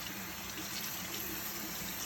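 Running water streams steadily from a faucet as lather is rinsed out of a ringworm kitten's fur in a sink, a constant close gush with no pauses.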